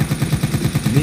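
Rapid gunfire from Resident Evil 3, a fast regular string of loud close shots with no voices over it.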